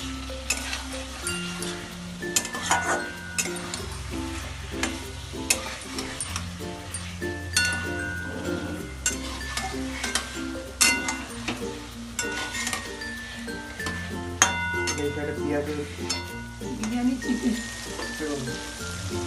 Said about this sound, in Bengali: এখন নেড়ে নেড়ে এইভাবে আপনারা নেড়ে নেবেন, মশলার সাথে মিক্স করে নেবেন।